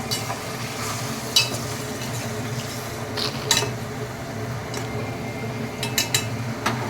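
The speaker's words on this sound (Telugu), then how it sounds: "వేసుకున్న తర్వాత ఒక్కసారి కలపాలి." Chicken is stirred in a cooking pot over a low, continuous sizzle, with scattered metallic scrapes and clinks of a spoon against the pot. No one speaks.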